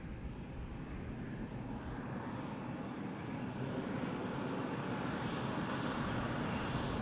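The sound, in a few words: airplane arriving at Tucson International Airport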